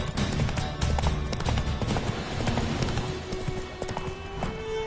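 Roach the horse gallops in The Witcher 3, rapid clip-clopping hoofbeats close and loud, running steadily over a busy game soundscape.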